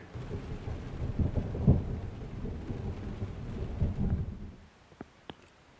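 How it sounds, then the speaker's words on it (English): Deep rolling thunder rumbles continuously through a dark storm outdoors, with several swelling peaks, then fades to near quiet with a couple of faint distant cracks at the end. "Right behind me it's really dark, and there's a lot of thunder."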